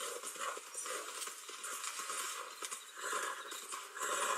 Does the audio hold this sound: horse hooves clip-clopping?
yes